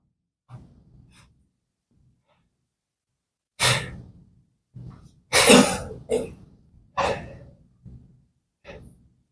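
Several separate coughs and throat-clearing bursts from one nearby person, spread irregularly with short pauses, with a few quieter breathy sounds in between and no speech.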